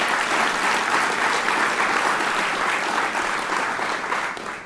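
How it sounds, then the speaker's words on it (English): An awards-night crowd gives loud, continuous applause for the boys track dream team, dense even clapping that fades slightly only at the very end, with no talking. "All right, big round of applause."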